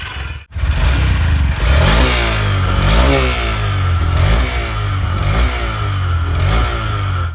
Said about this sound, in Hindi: सबसे पहले तो मैं आपको इसका इंजन और एग्जॉस्ट का साउंड ही चेकआउट करा देता हूँ।